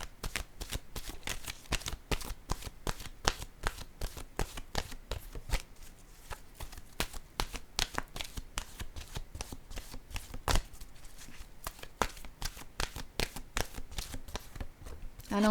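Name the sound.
shuffling oracle cards before drawing one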